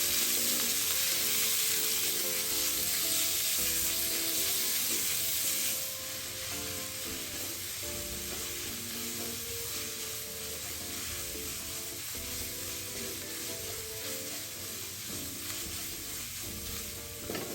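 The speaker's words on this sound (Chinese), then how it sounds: "加入猪肉末200克，用中火翻炒至色泽转白，微微出油" Minced pork stir-frying in a wok over medium heat, a steady close sizzle with scraping and stirring, louder and hissier for the first six seconds and then settling to a softer, continuous fry.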